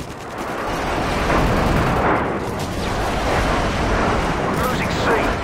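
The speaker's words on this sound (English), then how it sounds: "Airstrike inbound." Airstrike in the video game Modern Warfare 2 on the Crash map, a loud sustained roar of rumbling blasts and gunfire lasting several seconds, with a game voice mixed in.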